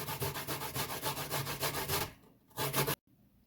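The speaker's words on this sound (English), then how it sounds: "So you use the small part to grate the coconut" Fresh coconut being grated on the small holes of a hand grater, a fast steady run of rhythmic rasping strokes that breaks off and then resumes in a short burst before stopping, close and clear with no talking.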